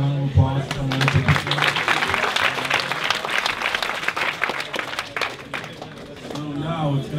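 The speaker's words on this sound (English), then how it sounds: "Give everybody a round of applause." Applause from the audience at a startup pitch event fills the room, a steady crowd clapping, with voices speaking over it at the start and the end.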